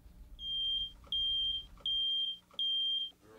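A carbon monoxide alarm beeps four times in a steady rhythm, each a sharp high-pitched tone of about half a second, fairly faint with a quiet background between beeps.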